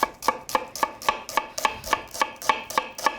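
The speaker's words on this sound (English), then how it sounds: "I'm simply gonna angle the knife as I slice thinly" A knife slices thinly through a vegetable from pole to pole on a cutting board, making a steady run of about twelve crisp, evenly spaced close-up cuts with no talking.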